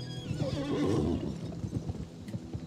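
Horse neighing in the PS2 video game Gun, a loud, close whinny rising and falling over about a second, followed by softer snorts and clip-clopping hooves.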